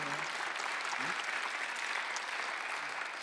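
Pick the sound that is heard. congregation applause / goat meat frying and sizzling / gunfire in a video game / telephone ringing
congregation applause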